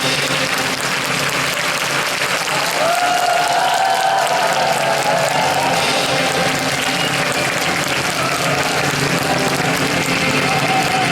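A concert hall audience claps steadily and densely to welcome the Gyeongsangnam-do education superintendent at a 2017 happy-school concert, a broad, continuous wash of applause with a faint tonal line running underneath.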